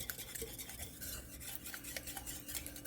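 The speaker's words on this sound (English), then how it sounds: "in my pot over a medium heat, I'm going to whisk 4 eggs" Four eggs and sugar are whisked in a pot over medium heat for lemon curd, producing a rapid, rhythmic scraping and clicking of the whisk against the metal, faint but continuous and close, with no talk.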